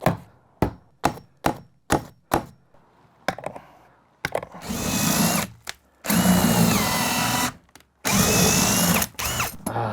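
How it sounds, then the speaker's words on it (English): A few sharp knocks come first, then a power drill whirs loudly in several long bursts into wooden studs, pausing between them, with its pitch shifting as it bites. "That would save you the step of having to drill the holes, but not for me."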